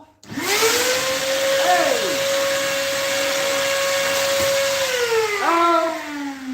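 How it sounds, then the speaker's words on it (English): A vacuum cleaner switches on with a sharp rising whine, then runs close and loud with a steady high tone, dipping and winding up again near the end as someone shouts briefly. "Let's bring the vacuum cleaner where I can turn it off."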